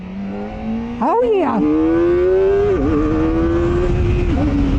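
A 2024 Kawasaki Ninja 400RR revs hard in second gear, its engine note climbing steeply then holding a high, steady whine before a brief dip and recovery, loud and close, with a rider's short exclamation over it.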